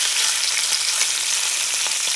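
Lamb pieces searing in a pot over medium-high heat for a coconut curry, a dense, loud, continuous hiss of sizzling fat with faint crackles, no voices.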